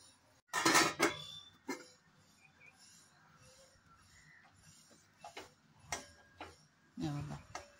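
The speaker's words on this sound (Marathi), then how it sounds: "या ताटात आता आपण खिचडी घेऊया।" Metal utensils clinking and scraping against a plate while sabudana khichdi is served, a loud clatter at first and then scattered lighter knocks, with quiet speech between.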